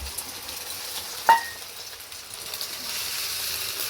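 An egg fries in a pan at home with a steady, soft sizzling hiss throughout and one sharp clink near the start. No one speaks.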